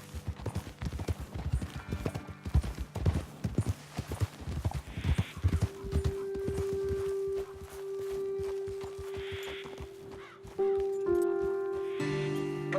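Horses walking in the Red Dead Redemption 2 video game, hooves clip-clopping in a steady, close rhythm for several seconds before fading into sustained music tones.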